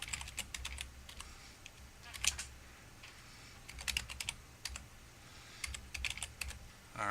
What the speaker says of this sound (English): again got the go ahead there, so we'll type it in a second time